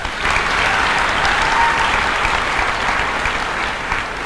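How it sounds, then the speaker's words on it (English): Audience applause for Simon at an academy gathering, a dense, steady wash of many hands clapping that holds loud and even for the whole stretch with no voices over it. "Can I have a clap for Simon, please?"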